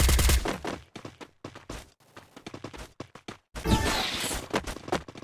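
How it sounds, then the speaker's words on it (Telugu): Sniper rifle fire in a shooter video game, with a series of sharp close shots and bursts at irregular intervals, some dense and some spaced apart, separated by brief quiet gaps. "ఇప్పుడైతే ఒక స్నైపర్ తెద్దాం. స్నైపర్తో బాద్దాం."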